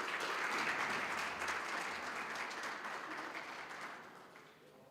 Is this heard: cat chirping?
no